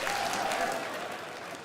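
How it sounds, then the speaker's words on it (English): Applause and cheering from a rally crowd in Wiltshire, a continuous broad wash of clapping with voices, steady and moderately loud for its short length. "That was a quieter cheer."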